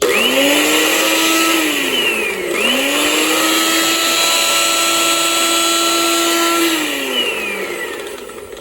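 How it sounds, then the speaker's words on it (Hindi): An Estar 4-in-1 juicer blender set's spice grinder attachment whirs loudly up close, spinning up, dipping briefly, then holding a steady high motor whine before winding down, no voices. "और फिर आप इसका ये स्पाइस ग्राइंडर लगा लें।"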